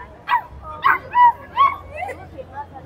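Several dogs at a street event bark and yip in short bursts, about five close, sharp calls with a whimpering edge, spaced unevenly against a quiet background hum.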